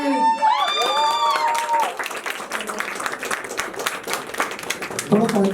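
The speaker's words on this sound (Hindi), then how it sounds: "चलो अभी बहुत जोरदार तालियों के साथ स्वागत करें" Audience clapping to welcome a guest, a dense spatter of applause under and after a sung or musical phrase, with speech coming in over it near the end.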